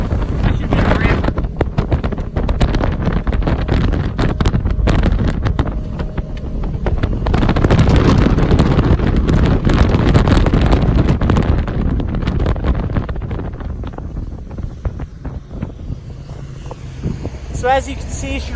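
A Cypress Cay TriToon pontoon boat runs at speed with a loud, steady motor roar, heavy wind buffeting and splashing water, tapering toward the end, while people talk over it.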